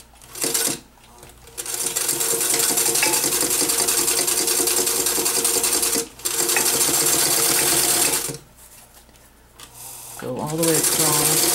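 A sewing machine runs in long, fast bursts of rapid stitching across the bottom seam of a zippered lining pocket, stopping briefly between runs, with a short reverse stitch near the end and a voice speaking during pauses.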